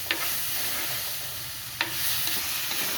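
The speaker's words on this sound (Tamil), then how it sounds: "நல்லா கிளறி விடணும்" Onion-based masala sautéing in a pan for a Sri Lankan fish curry, a steady close sizzle with a couple of sharp spoon scrapes against the metal as it is stirred.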